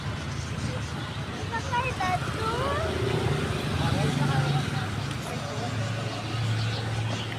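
A motorcycle engine hums in a steady low rumble while riding, with several people talking over it throughout.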